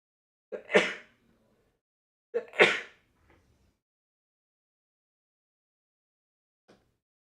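Two sharp sneezes a couple of seconds apart in a quiet room, followed by a faint short sound and then silence.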